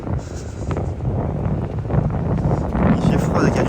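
Cold wind blows at a temple in Kyushu, a loud, gusty broadband roar buffeting the microphone and rising and falling throughout.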